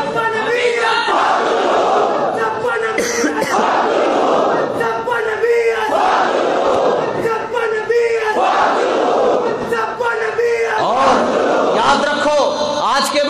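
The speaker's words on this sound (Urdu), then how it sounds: "اس نعرے میں ڈبل زور ہونا چاہیے" A large crowd at a religious gathering shouts a slogan in unison, loud repeated rhythmic chanting bursts rising and falling over about thirteen seconds, close and dense.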